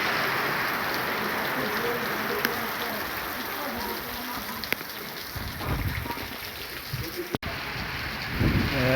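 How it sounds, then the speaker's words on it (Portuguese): Heavy rain on a Sunday afternoon makes a dense, steady hiss of drops throughout, with a few brief knocks and a swell of splashing near the end, and no one speaking. "começou a chover agora de tarde aqui, muita chuva"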